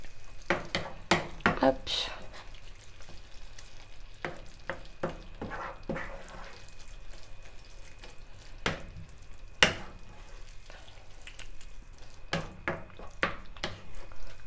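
Small bell peppers frying in a hot pan while being stirred, with sharp scraping and clatter strokes in irregular bursts over a low sizzle, and a brief spoken word at the start.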